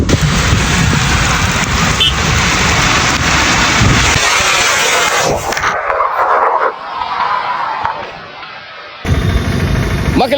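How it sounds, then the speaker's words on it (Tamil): Heavy northeast monsoon rain pours down on Rameswaram island near Pamban Bridge. A loud, dense, hissing roar eases partway through, then returns at full force near the end. "வடகிழக்கு பருவமழை இன்னைக்கு கரெக்டாக ஸ்டார்ட் ஆகி சூப்பராக ராமேஸ்வரம் தீவு பகுதியில் அடித்து பிரித்து வாங்கிக்கிட்டு இருக்கு."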